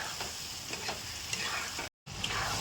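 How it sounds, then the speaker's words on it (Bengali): Close, busy sizzling of a spice paste with whole garlic frying in a pan, with scraping stirs and a brief break near the end. "এবার এই মশলাটা কষাতে হবে দশ মিনিট ধরে ভালো করে"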